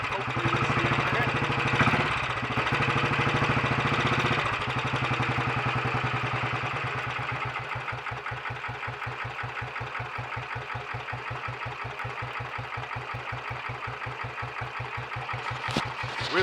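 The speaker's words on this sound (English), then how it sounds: "when it's warming up to do so, it's got a nice steady smooth tick over" Royal Enfield Bullet 500 single-cylinder motorcycle engine idling while warming up, a steady, even tick-over with regular thumping pulses, close and continuous throughout.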